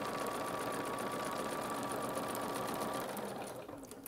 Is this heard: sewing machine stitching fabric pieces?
yes